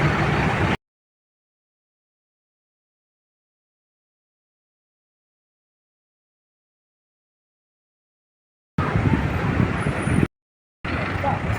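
Heavy road traffic near a church in the Philippines during a presidential visit, heard as short bursts of loud, steady vehicle and road noise separated by long silent gaps.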